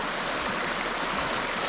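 Steady broadband rush of a river flowing along a quiet campsite stretch, continuous and even with no breaks, close by and alone without voices.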